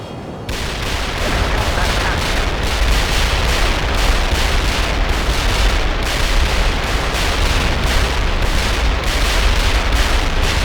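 World in Conflict video game artillery fire: a dense, continuous barrage of booming blasts and crackling explosions, loud and sustained throughout with no pauses.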